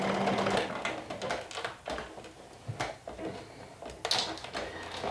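A sewing machine stitches shirt cuffs on its free arm in short, uneven runs broken by pauses, clicks and fabric handling, moderately close.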